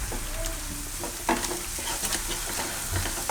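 Coriander-cumin powder is stirred into sizzling onions and oil in a pan, a steady frying hiss under irregular scraping strokes of a spoon, close and moderately loud, with no speech.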